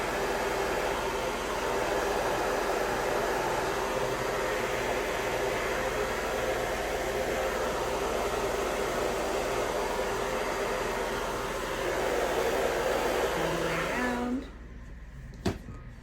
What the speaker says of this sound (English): taking our diffuser and our dryer again